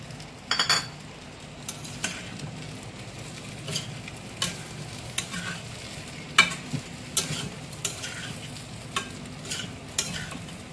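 Masala frying in a pan for parwal polau, a Bengali pointed-gourd pilaf: a low steady sizzle punctuated by repeated close spoon scrapes and metallic clinks against the pan, with no talk.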